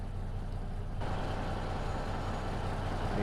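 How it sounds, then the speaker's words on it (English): Truck hauling a loaded trailer in a trucking video game, a steady low engine drone with road rumble that swells slightly after the first second, continuous and close, no talk. "look at that truck move as soon as I loaded up the trailer"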